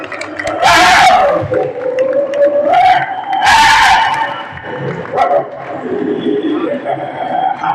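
A voice imitates two dogs fighting, with loud, harsh growling and snarling bursts that rise and fall over about eight seconds.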